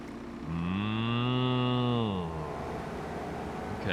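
Cows in Farming Simulator 25 give a single long, loud moo that rises and falls in pitch, then fades into quiet background.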